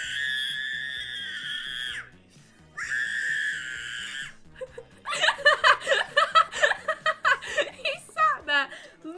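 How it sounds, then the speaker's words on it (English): A recording of a strange little kid screaming ear-piercingly, two long high-pitched shrieks followed by a run of choppy, rhythmic squealing bursts, close and loud. "Let me see if I can find you the video of him screaming"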